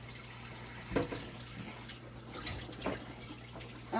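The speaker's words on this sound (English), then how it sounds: "So you just run it underneath some cold water" Cold tap water runs over blanched tomatoes in a kitchen sink, a quiet, steady faucet flow with a few soft splashes and clunks as the tomatoes are handled.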